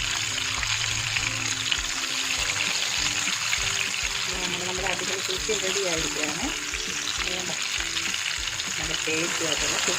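Kerala sukhiyan fry in hot oil with a steady, bright sizzling hiss that runs throughout, while a person talks over it.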